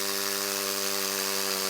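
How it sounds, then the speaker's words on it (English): A power drill bores a quick hole while a mountain house foundation is laid out, giving one steady, unbroken motor whine with a dense hiss, close and constant through the short stretch. "So let's drill a quick hole here."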